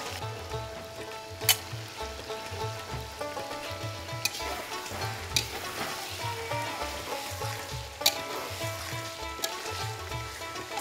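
Fish frying in spiced oil in a pan gives a steady, moderate sizzle with occasional sharp pops and clicks, close by and continuous without speech.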